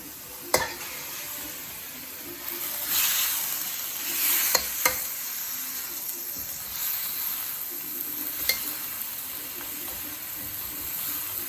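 Lomo saltado frying in a hot pan as it is stirred: a steady hiss of sizzling with scattered sharp clicks and scrapes from the utensil, fairly quiet and close, with no talking.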